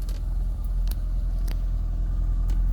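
A C5 Corvette engine runs with a steady low rumble throughout, constant and close, with a few faint clicks on top and no talking.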